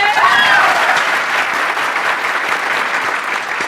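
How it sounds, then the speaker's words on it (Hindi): A live audience at a motivational talk breaks into loud, sustained clapping that holds steady for several seconds, dense and close with no voices over it. "इन लोगों के लिए जोरदार तालियां।"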